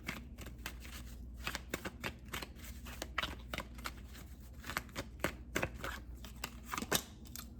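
Tarot cards shuffled close up, a continuous run of crisp riffling flicks and soft slaps with irregular rhythm, no talking.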